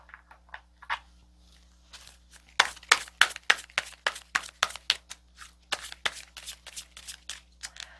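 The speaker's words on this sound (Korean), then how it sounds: "추가 카드를 좀 뽑아보도록 할게요" Tarot cards being drawn and laid out by hand: a quiet, close series of crisp flicks and snaps, sparse at first, then a rapid run of sharp card slaps and shuffling rustles.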